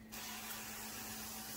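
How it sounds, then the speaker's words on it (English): Non-stick cooking spray sprayed onto a pan for lasagna, a steady continuous hiss that starts abruptly and runs without pause, close and moderately loud, with no talk. "Non-stick cooking spray."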